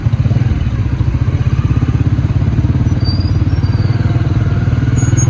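A motorcycle ridden through city traffic in Rawalpindi, its engine thumping in a fast, steady, loud pulse close by, with faint traffic sounds in the background.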